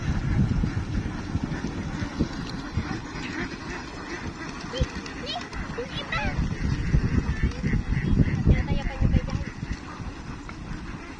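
RTL itik ducks quack and honk in a flock outdoors with wind buffeting the microphone. A person talks over the busy, continuous calling.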